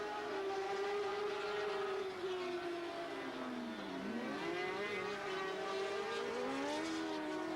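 Racing sidecar outfits scream past on the Mallory Park circuit, a loud sustained engine whine sweeping down and back up in pitch as the race leader laps a slower machine, continuous for the whole stretch.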